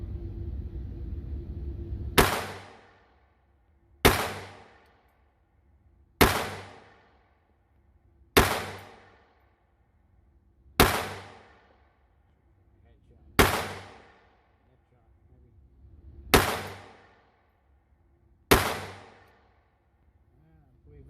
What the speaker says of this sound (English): So that gave us a total of 17 shots.